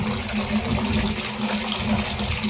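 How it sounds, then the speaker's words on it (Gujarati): Water pours steadily into a water tank, making a constant close rushing and splashing sound with a low hum beneath it, alone and without talk. "અહીંથી આ પાણી આ ટાંકો ભરાઈ જાય"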